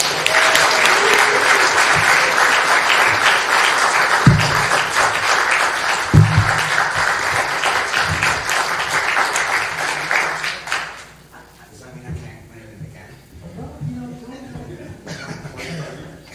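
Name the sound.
audience applauding an award presentation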